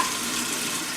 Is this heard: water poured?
yes